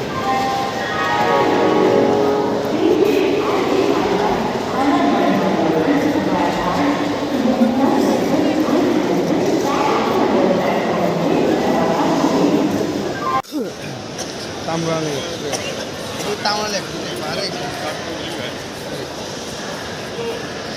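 A train rumbles steadily at Howrah railway station with a loud, continuous mechanical roar, crowd voices murmuring underneath, and the sound shifts abruptly partway through.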